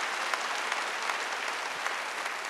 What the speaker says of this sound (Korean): 왜 박수 소리가 그래요? 더 세게 치지.